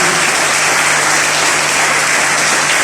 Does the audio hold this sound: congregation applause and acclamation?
yes